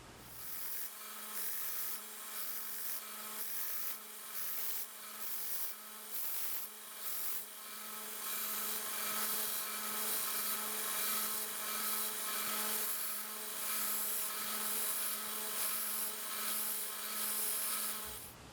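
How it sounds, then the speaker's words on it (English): A continuous abrasive grinding hum from a belt sander with a 120-grit belt working a screwdriver's metal ferrule, with rhythmic pulses as the piece is pressed and shifted against it. "I kept a close eye as I was sanding to see if a maker's mark would show up"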